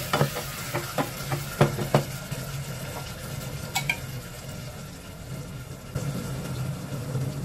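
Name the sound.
sardines sautéing with garlic and onion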